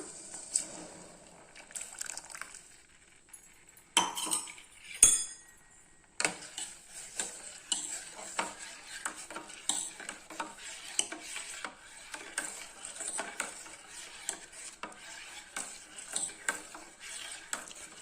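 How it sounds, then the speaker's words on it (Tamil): A spoon scrapes and clatters repeatedly against a pot of sathu maavu (multigrain health mix) porridge, a steady irregular stirring with a few louder knocks. "நல்லா ஒரு 5 நிமிஷம் நல்லா கிளறணுங்க."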